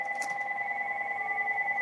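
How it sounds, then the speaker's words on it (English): A telephone rings steadily indoors, its electronic trill running continuously at moderate volume with no talk over it. "Was the phone."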